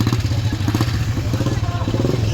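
Motorcycle engines rumble steadily with clattering mechanical noise, a busy roadside with traffic passing close by and muffled voices underneath.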